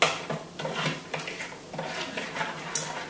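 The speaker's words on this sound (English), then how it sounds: "So give it a good stir" Spoon stirring chia seeds into liquid for raspberry cardamom chia pudding, giving repeated light scraping and clinking strokes against a bowl, close and fairly quiet, with no talking.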